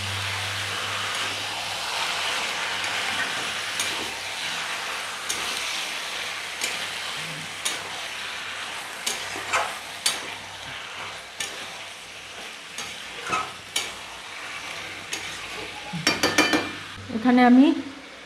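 About a kilo of chicken pieces stirred in a hot pan for a home-style curry, with steady soft sizzling under scraping and clinking of a spoon against metal, growing louder and busier toward the end.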